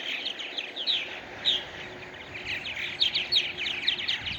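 Purple martins chattering in a flock, a busy stream of high chirps and gurgling twitters in uneven bursts, moderately close, over a soft steady background with no talking.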